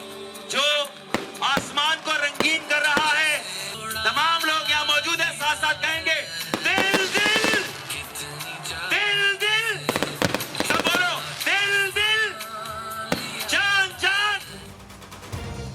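A fireworks display at Governor House in Karachi after a cake-cutting ceremony: loud cracking, popping bursts go off continuously in the background while someone talks steadily over them.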